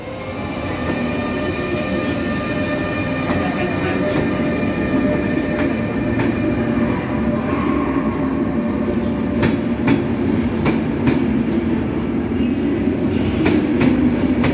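Steady rumble of a train inside Keleti railway station, with a low continuous hum, faint metallic clicks and squeals, and a few distant voices.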